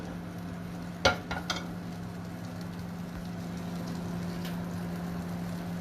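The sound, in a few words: butter melting and sizzling in a pan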